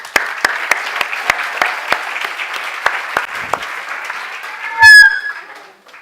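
Scattered, separate hand claps from a small lecture audience welcoming a speaker on Atlantis, thinning out after a few seconds, followed by a brief burst of louder sound near the end.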